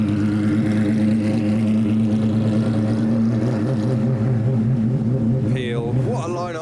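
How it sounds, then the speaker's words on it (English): Road-legal Lamborghini Murcielago GT1 idling at a car meet, a deep, rumbling engine burble that holds steady and close, with a brief rising rev or passing sound near the end. "the road legal Lamborghini Murcielago GT1. And this is what it sounds like."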